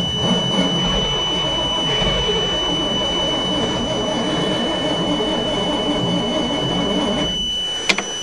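A 427 dump truck engine cranks on a cold start. A steady whirring drone runs unbroken throughout, with a sharp click near the end.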